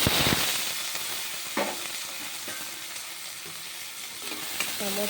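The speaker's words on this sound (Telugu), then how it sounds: "టమోటా వేగిపోయింది." Tomatoes fry in a pan with ginger and garlic for a mushroom curry, giving a steady close sizzle with a few scraping stirs and spoon clinks, and no voices.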